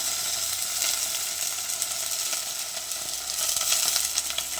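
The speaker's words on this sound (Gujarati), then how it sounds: "હવે નાખી દઈશું બટેકા આ રીતે બટેકા ડુંગળી નાખી દઈશું" Sliced potatoes and onions dropped into hot oil for Gujarati rasiya bhaat, giving a steady, fairly loud crackling sizzle that holds for the whole stretch with no voices over it.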